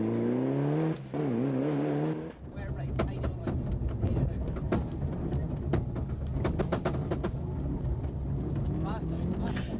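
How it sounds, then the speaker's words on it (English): A Mitsubishi rally car at a rally stage corner, engine revving and rising in pitch with gear changes and bursts of acceleration, under loud continuous commentary. "On board the Mitsubishi, we can see how warily he treats this tricky, treacherous corner"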